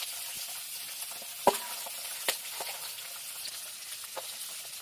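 Pabda fish frying in oil in a home kitchen make a continuous faint hiss and sizzle, close by, with a few soft clicks of stirring or utensils scattered through it.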